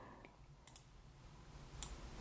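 A computer mouse clicks faintly while someone works in Silhouette Studio design software, giving a few soft, separate clicks over a quiet background hum.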